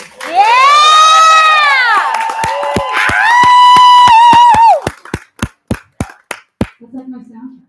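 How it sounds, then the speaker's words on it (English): A crowd cheers and whoops loudly with applause at a poetry reading and fundraiser, and the cheering fades into a run of sharp individual claps that taper off. "Please give her a great round of applause."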